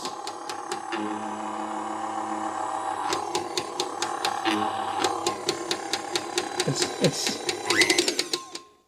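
A KitchenAid stand mixer runs with a steady motor hum and an odd internal noise, sharp rhythmic clicks and knocks repeating through its spin, close and fairly loud, with no talking.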